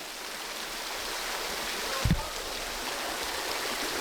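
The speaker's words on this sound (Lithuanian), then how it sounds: "Lyja, baisiai lyja." Heavy rain pours in a steady dense hiss inside a tunnel, loud and constant, with a single short thump near the middle and no talk.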